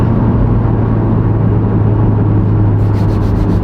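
A modified Subaru STI launching hard on a clutch test, its engine roaring in a loud, sustained, near rumble with a steady drone throughout.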